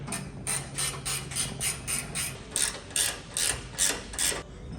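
A ratchet tightens the bolts on an OCAM H-bar fitted to a 2018–22 Ford Ranger PXIII dual cab, giving about ten bursts of rapid clicking in a steady rhythm, close and fairly quiet.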